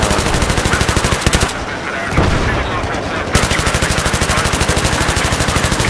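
Heavy automatic gunfire in the video game Battlefield 3 hammers in rapid, loud, sustained bursts of shots with a brief lull midway, close and dense, with some voice activity mixed in.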